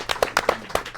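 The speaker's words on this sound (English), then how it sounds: "Let's give a round of applause." Applause from an audience at a meet-and-greet event: a handful of distinct, fairly close claps in an uneven rhythm, with a voice also heard.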